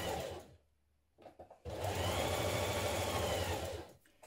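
A sewing machine stitches the side seams of a dress bodice. It whirs in a short burst, pauses, gives a few brief taps, then runs in a long, steady, close buzz before stopping.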